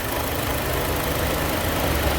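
A car engine idles steadily and fairly loudly up close, a continuous low rumble with no change in pace and no voices, from a car with a leaking valve cover gasket dripping onto the exhaust manifold.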